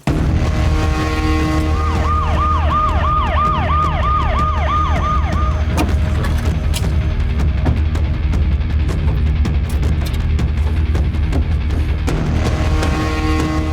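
An ambulance siren wails in a rapid repeating rise-and-fall pattern for a few seconds over steady engine and traffic rumble, then fades while the noise continues.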